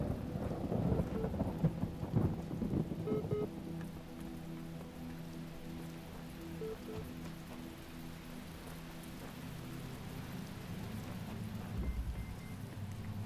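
Rain and rolling thunder in the video game The Talos Principle, a steady downpour with a loud thunder crash at the start and a low rumble near the end.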